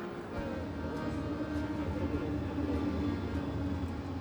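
Trams roll through the city streets of Linz, Austria, with a steady low rumble of wheels and motors and faint metallic squeals and ticks over the track, with no voices.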